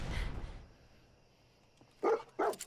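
Dogmeat, the dog in Fallout 4 played with the Sim Settlements 2 mod, gives two sharp, close barks in quick succession near the end, after a brief noisy start and a quiet pause.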